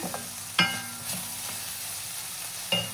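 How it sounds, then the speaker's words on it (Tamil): Brinjal pieces sautéing in hot oil, giving a steady soft sizzle with a few sharp stirring clinks near the start and end, close by and with no voices. "எண்ணெய் கத்திரிக்காய்க்கு கத்திரிக்காவை வதக்கிட்டு இருக்கேன்"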